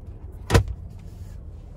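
A 2021 Nissan Murano SL sunroof closing on one touch, heard as a single short thud about halfway through, against quiet cabin background.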